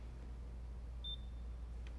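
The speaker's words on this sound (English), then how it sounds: "we'll start here, and you hear that nice beep" A paint thickness gauge gives one short, clean electronic beep as it is pressed against the body of a 1976 Lincoln Continental Mark IV, alone over a low steady hum.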